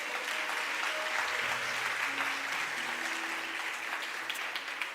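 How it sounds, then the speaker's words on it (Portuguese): A church congregation applauds steadily at a worship service, a dense, sustained wash of clapping from many hands that fills the room for the full stretch with no voices over it. "Você pode aplaudir a Jesus?"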